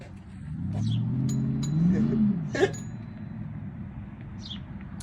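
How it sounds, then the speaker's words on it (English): A Chevy truck engine idles nearby, a low throaty rumble that briefly swells as it revs, with a sharp clink partway through. "When you hear that sound of that Chevy, you know who it is."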